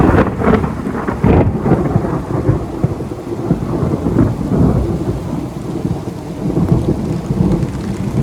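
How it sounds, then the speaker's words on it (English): A heavy rainstorm roars steadily, with deep rumbling thunder rolling through it, loud and dense throughout, with no voices. "we actually got that rainstorm the very same evening."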